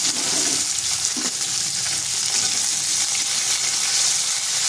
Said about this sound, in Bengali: পেঁয়াজটাকে হালকা একটু ভেজে নিচ্ছি।